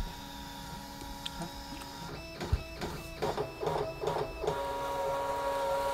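A DesignNCut cutting machine works on a capture mat, giving a quiet electronic hum and then a burst of rhythmic clicking, whirring carriage movements over a few seconds, close and fairly soft.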